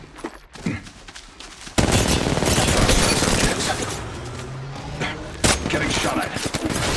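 Bursts of automatic gunfire in the Apex Legends battle royale game, starting quiet and then erupting into loud, sustained volleys with sharp shots and impacts from about two seconds on, plus another spike near the end.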